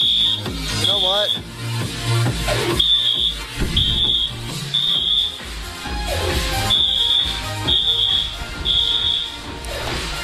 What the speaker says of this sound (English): I can certainly hear the fire alarm